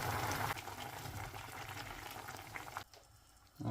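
Diced sweet potato on fried bacon in a pot, with water just poured in, bubbling and simmering steadily at close range; the boil drops away near the end before rising again briefly.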